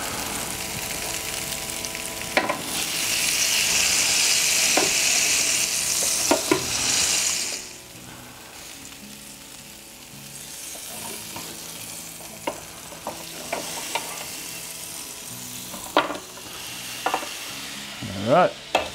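Tomahawk ribeye steaks sizzle on a Ninja Foodi XL grill. A loud, hissing sizzle fills the first seconds, then quieter crackling follows with scattered clicks and knocks as the steaks are flipped.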